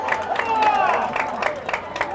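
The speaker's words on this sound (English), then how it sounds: "This Marlboro crowd getting behind their Marlboro defense" Football crowd at a high school game cheers and claps for the Marlboro defense, a steady roar with rhythmic bursts of clapping heard from a distance.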